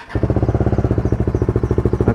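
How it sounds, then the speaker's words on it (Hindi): A Bajaj Dominar 400 motorcycle engine idles in neutral while warming up before a rainy-season Sunday ride, a steady, loud, close thumping with an even pulsing beat throughout. "ओके गाइस, तो कर रहे हैं वार्म अप अपनी बाइक को"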